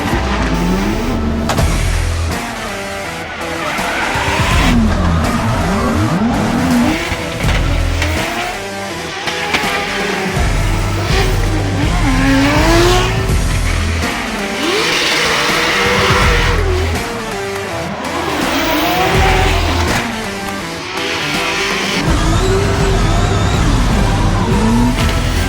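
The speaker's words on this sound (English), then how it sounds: "motorsport and drifting specifically is very, very loud" Drift cars at a Drift Masters event in Finland scream past with loud engine revs and long tire squeals, the roaring passes and skids repeating continuously and overlapping in a noisy outdoor motorsport setting.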